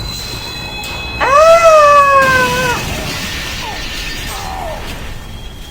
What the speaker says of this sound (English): You just survived a train wreck